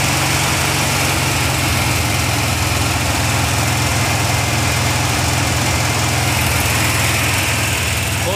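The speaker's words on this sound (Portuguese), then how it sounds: "Conseguimos ligar a combinha." A Volkswagen Kombi van engine idles steadily up close, a loud, continuous rumble with a buzzy low throb and no voices over it.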